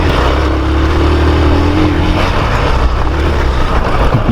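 Hero Xpulse 200 motorcycle ridden offroad, a steady loud engine drone with wind rush that stays close and continuous throughout, no talking.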